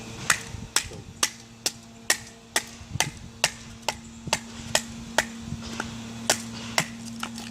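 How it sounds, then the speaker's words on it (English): Knife batoned through a piece of firewood, splitting off small pieces for kindling: about fifteen sharp, evenly spaced wooden knocks, close and distinct over a steady low hum. "I'm going to baton off a couple of small pieces, because you can't start a fire with something this big."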